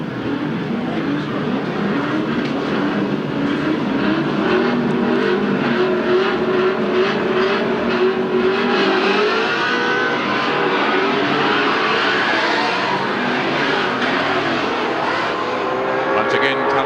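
Racing cars roar together at a 1979 AMSCAR race at Amaroo Park, a loud, continuous engine drone with rising revs throughout, heard under a commentator's steady talk.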